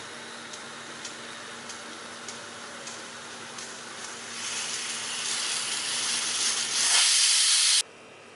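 A pressure cooker of chicken biryani hisses as steam builds before the whistle, a steady close hiss that swells louder and brighter over several seconds, then cuts off abruptly near the end.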